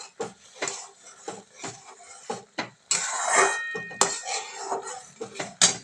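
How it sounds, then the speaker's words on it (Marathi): Roasted semolina being mixed with green colouring in a pan, heard as a steady run of close spoon scrapes and metallic clatters in an irregular rhythm, with a longer rubbing scrape partway through. "रव्याला हिरवा कलर येईल असं हे सगळं आपण मिक्स करूया"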